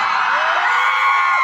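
A concert crowd at Goalpara college week 2023 shouts loudly together in one sustained, dense roar of voices and whoops that holds strong for the whole moment.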